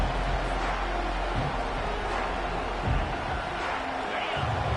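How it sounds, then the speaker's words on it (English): A football stadium crowd roars as a steady, dense wash of noise that swells slightly and never drops out, with a commentator's voice mixed in. "listen to the roar of this crowd"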